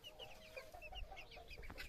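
A young pearl-grey rooster chick clucks and peeps in quick, irregular chirps, close by, with other soft chick and fowl calls mixed in throughout.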